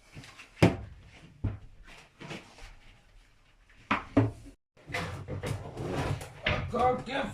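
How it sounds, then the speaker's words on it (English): Wooden knocks, thuds and scraping as a door panel is worked loose and removed from a narrowboat shower door, in irregular bursts close by, with people talking in between. "Pete's taking the first panel out of the door."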